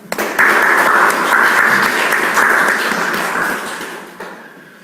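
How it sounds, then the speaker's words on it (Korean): Sustained applause from a church congregation at a Sunday house-church worship service, steady dense clapping for several seconds before tapering off near the end. "참어머님께 감사와 영광의 박수 올려드리도록 하겠습니다"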